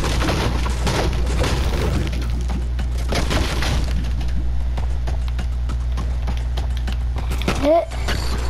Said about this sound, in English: I'll destroy this chest.